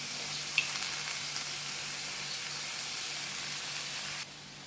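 Cabbage and sawi stir-frying in a wok for vegetarian fried mihoon, a steady close sizzle with soft stirring throughout that drops away abruptly near the end.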